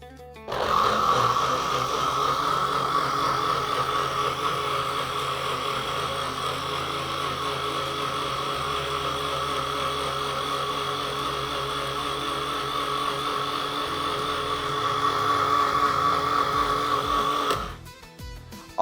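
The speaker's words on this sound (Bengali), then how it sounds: "আমি এখন ব্লেন্ড করে নিচ্ছি।" An electric blender whirs continuously as it blends beetroot with water for juice, a loud, steady motor drone with churning liquid lasting over fifteen seconds before cutting off abruptly, close by and with no one talking.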